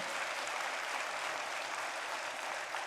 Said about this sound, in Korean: 박수 한번 더 해주죠